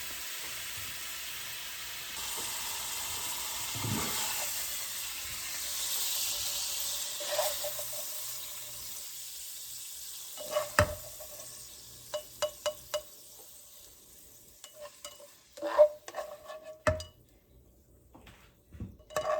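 Spaghetti sauce ingredients cook in a pan with a soft sizzle, then scattered utensil clinks and scrapes grow more frequent toward the end.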